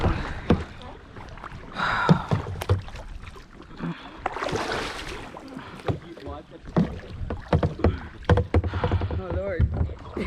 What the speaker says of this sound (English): start paddling or we all miss this